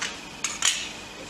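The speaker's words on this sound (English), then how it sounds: "you stir it till it's fully done" A spoon stirs cooking salt into a liter of tap water in a cup, giving two quick, bright clinks over a faint background hiss, with no voices.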